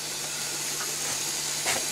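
A faint, steady hiss rises as hot brine is poured over boiled russula mushrooms during hot salting, with a slight swell near the end.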